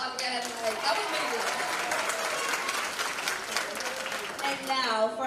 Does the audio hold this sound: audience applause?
yes